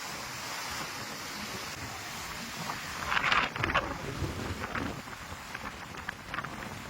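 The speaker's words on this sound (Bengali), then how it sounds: "প্রচণ্ড বড় বড় ঢেউ আসছে এবং সেই ঢেউগুলো কিন্তু এসে আঘাত করছে এই বাঁধের গায়ে" Huge sea waves striking an embankment on Mousuni island's southern shore during rough seas, a steady roar of surf and wind with a louder surge crashing in midway; no talking.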